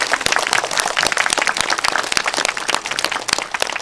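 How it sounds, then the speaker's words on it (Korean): Large congregation at an outdoor Catholic mass for Saemangeum ecosystem restoration applauding, dense steady clapping from many hands, close and loud for the whole stretch. "큰 박수 한번 쳤으면 좋겠습니다."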